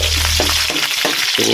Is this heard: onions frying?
yes